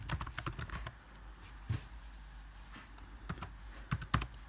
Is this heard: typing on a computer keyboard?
yes